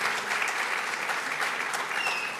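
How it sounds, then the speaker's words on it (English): A gathering at a San Jose alumni reunion event applauds in a brief, even spell of clapping, moderately soft and heard from across the room. "And a big round of applause to him"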